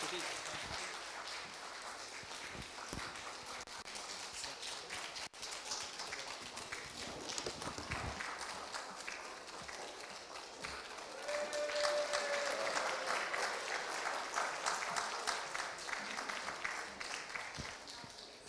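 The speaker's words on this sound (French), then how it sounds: "on peut les applaudir" Applause from a gathered crowd at an inauguration ceremony, steady clapping that swells slightly louder toward the end, with some voices mixed in.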